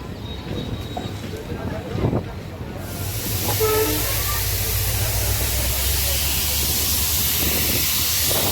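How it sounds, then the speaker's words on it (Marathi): A passenger train pulls in at platform 2 of Kinwat railway station on the Nanded–Adilabad line, a steady loud rumble and hiss of the rolling train building and holding, with a brief clatter early on and a faint voice in the background. "नंबर 2 वरती आपली ट्रेन लागते, किनवट रेल्वे स्टेशन."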